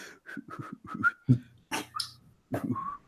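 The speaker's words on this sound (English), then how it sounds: "I nonchalantly whistle." A person whistles casually in a short, halting series of brief notes, close and fairly soft, with breathy pauses between the phrases.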